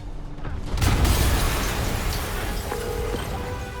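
An explosion in the Marvel's Spider-Man video game bursts out loud and close, a heavy boom with rumbling debris that sustains and slowly fades over several seconds, with no talk over it.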